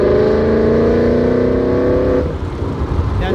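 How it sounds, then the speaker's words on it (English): A 2023 Nissan Z accelerates on the road, its engine note climbing steadily and loud, then easing off abruptly into quieter road noise. "you just start driving faster and the car will dry itself"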